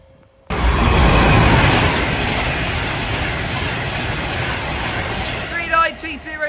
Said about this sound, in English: 390-156, railing off to London Euston. So off goes 390-156.